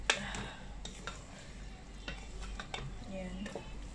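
Pasta being stirred in a pan: repeated scraping and clinking strokes over a soft sizzle, close by, with no words spoken.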